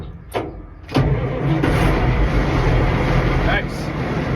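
A 1974 Steiger Bearcat tractor engine cranks briefly, then catches and settles into a loud, steady diesel rumble that runs continuously close by.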